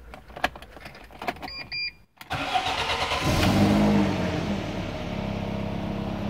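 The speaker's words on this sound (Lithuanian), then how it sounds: "Štai galite paklausyti, kaip įspūdingai dirba variklis." A BMW E36 318ti with the 1.8is engine, a worn exhaust and a cracked rear differential housing, starts after some clicks and a power window whir, then settles into a loud, close, steady idle with no talk.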